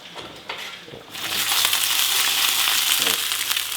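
Eggs frying in a pan for a breakfast of eggs and bagels, a steady broadband sizzle that swells after a second of quieter clatter and then holds loud and continuous, with no talk.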